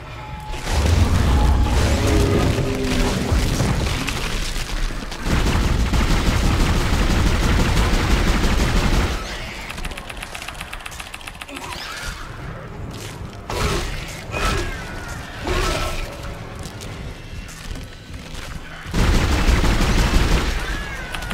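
Loud bursts of weapon fire from the player's gun in the video game Dead Space, rounds of shots and booms in clustered volleys with quieter gaps between them, near and dominant.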